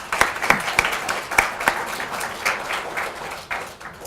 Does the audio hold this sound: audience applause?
yes